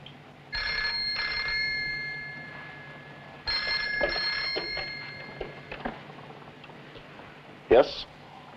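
A telephone bell rings in two sharp bursts, a pause, then another ring, fairly close, followed by a receiver clatter, with faint voices around it.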